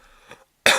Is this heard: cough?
yes